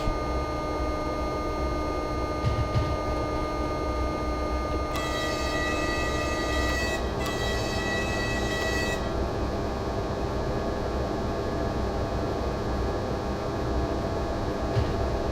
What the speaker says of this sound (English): Ooh, very nice track joint sounds